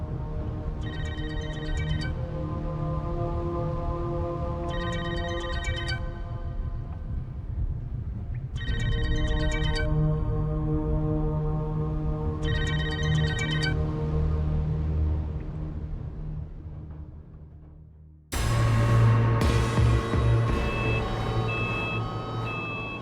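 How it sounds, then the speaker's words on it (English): A phone ringtone trills in repeated bursts over a steady low hum, then gives way to a louder, brighter rush of noise near the end. "Momoko calls Junko's mobile phone."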